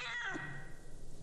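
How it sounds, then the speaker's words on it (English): A cat meows once in a scene from the martial arts film Enter the Dragon, a short drawn-out cry at the start that fades into low background hum. "Don't kill the cat!"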